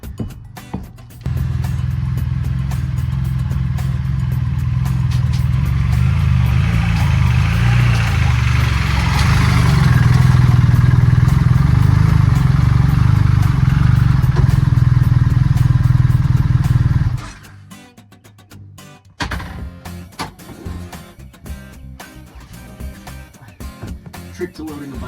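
A BMW GSA adventure motorcycle runs loud and close at a steady idle with a slight rise midway while being loaded onto a trailer, then cuts off, leaving clanking, rattling handling noises.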